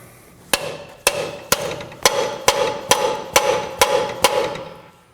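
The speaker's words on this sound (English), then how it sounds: "Now I'm going to hit the bearing on the rear with the hammer" A hammer strikes the rear wheel bearing of a 2013-2019 Nissan Sentra ten times in a steady rhythm, each metal hit sharp and loud with a brief ringing decay.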